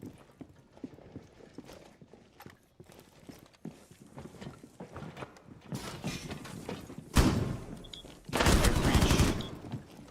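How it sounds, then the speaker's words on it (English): Shotgun blasts and other gunfire in the tactical shooter Rainbow Six Siege, faint scattered shots at first and then two loud, close, broadband bursts near the end. "this guy shotgunned me"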